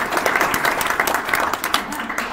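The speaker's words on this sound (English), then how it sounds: "I want to give a round of applause for Joe for putting this all together." Audience applause at an Ethereum meetup, a crowd clapping briskly and evenly for a couple of seconds, close and fairly loud with a dense patter of hands.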